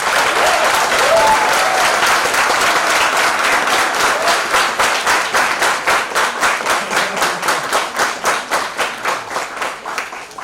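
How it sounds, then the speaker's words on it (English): A lecture-hall audience at an MIT bioengineering session applauding, loud dense clapping from many people that gradually thins into a few slower, more distinct claps toward the end. "I really appreciate the applause"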